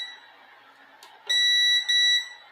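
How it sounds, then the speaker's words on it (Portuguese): An LG RAD125 sound system beeping as its capacitor charges: after a quiet hum and a faint click, two loud, sustained, high-pitched electronic beeps sound back to back, close and alone with no talking. "Isso aqui é o capacitor carregando que ele faz esse bip"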